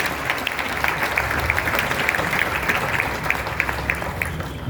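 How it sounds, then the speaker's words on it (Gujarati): An audience at a drama performance applauds child actors, a steady, even wash of many hands clapping that holds for the whole stretch without a break. "ચાર બાળ કલાકારોને તાળીઓના ગડગડાટથી આપણે સૌ કોઈ અભિવાદિત કરીએ"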